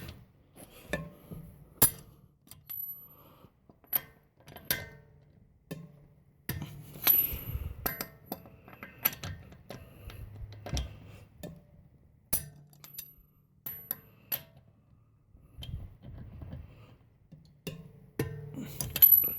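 Loosening the lug nuts on a 2010 Honda Pilot wheel in a star pattern before lifting: a series of sharp metallic clinks and clanks from the wrench, spaced irregularly, close and moderately loud, with brief quiet gaps between bursts.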